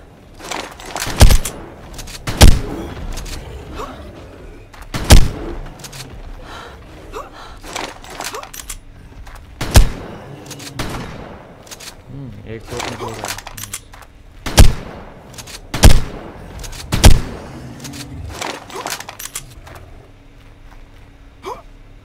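Shotgun blasts from ARK: Mobile, a video game, go off roughly every couple of seconds as a series of sharp, loud bursts, each followed by short decays, with a background of game ambience and no speech.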